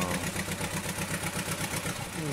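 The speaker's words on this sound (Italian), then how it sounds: "una volta che si accende, senti che motorino, che roba" A small engine idles steadily in the Farming Simulator 19 video game, with a slight knock at the top. Its pulses repeat in an even chugging rhythm at moderate volume, close by and uninterrupted.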